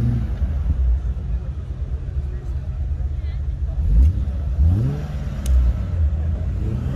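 Car engines rev loudly during a drifting session, a steady low rumble swelling into rising and falling revs near the end, with voices faintly mixed in.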